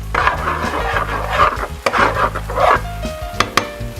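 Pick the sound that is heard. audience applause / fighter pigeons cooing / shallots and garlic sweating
shallots and garlic sweating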